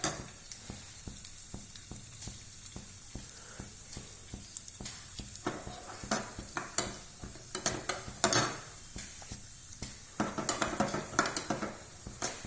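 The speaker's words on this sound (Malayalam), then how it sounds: "നെയ്യിൽ അണ്ടിപ്പരിപ്പ് നല്ല മൊരിയണം" Cashew nuts frying in ghee in a pan, tempered with pepper and cumin for Tamil Nadu-style ven pongal: a quiet, steady sizzle broken by many sharp clicks and scrapes of a spoon against the pan, close by, with no talk.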